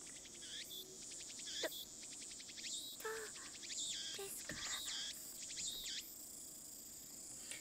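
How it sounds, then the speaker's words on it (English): Cicadas or crickets chirp steadily in the Steins;Gate video game soundscape, repeated high buzzing trills over a soft, even background hum. "The only sound is the chirping of cicadas."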